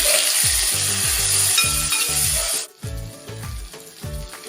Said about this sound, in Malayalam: നല്ല ബ്രൗൺ നിറം ആകുന്നത് വരെ ഇത് വഴറ്റിയെടുക്കേണ്ടതുണ്ട്